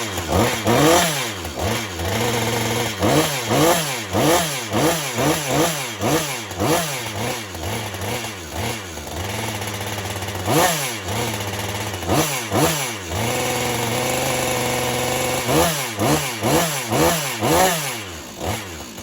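Husqvarna 562 XP chainsaw running with no clutch fitted, its engine revving up and down in repeated loud bursts between steadier stretches of idle-like drone, close and continuous throughout.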